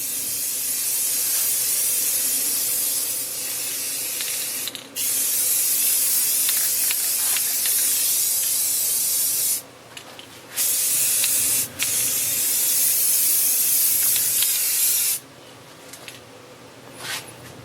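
A spray paint can hisses onto a scroll-sawn wooden shelf laid flat, in long continuous bursts broken by a few short pauses, loud and close with no talking.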